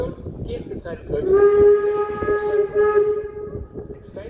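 The ZLSM 52 532 heritage steam locomotive on the Miljoenenlijn sounds a loud, sustained steam whistle as it returns, with rumbling and chuffing underneath and people talking faintly nearby.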